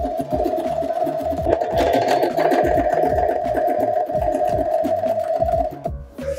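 A sewing machine runs a zigzag stitch along the edge of a bed sheet, giving a fast, even mechanical clatter over a steady motor hum that cuts off near the end.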